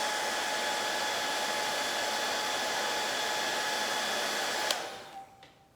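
A heat gun blows on flexible wood moulding, giving a steady, loud rushing whine with a thin tonal hum that cuts off abruptly and winds down in the final second.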